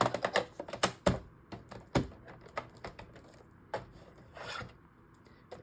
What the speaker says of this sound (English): And then we'll do a little bit of scoring.